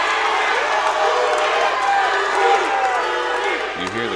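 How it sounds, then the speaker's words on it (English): A dense, loud arena crowd roars and chants steadily in support of hometown fighter Luis Guel at a TRU 56 fight event, filling the background with a thick wash of voices. "You hear the crowd chanting behind us there in full support of hometown Louis Guel."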